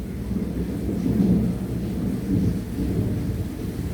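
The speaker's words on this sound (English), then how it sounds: "Massive thunderclap" A massive thunderclap rolls through a thunderstorm with rain, a deep, heavy rumble swelling and surging for several seconds, loud and booming with no voices.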